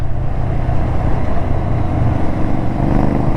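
A Ducati Scrambler motorcycle rides through the city with a steady, loud, close engine drone that stays even the whole way through.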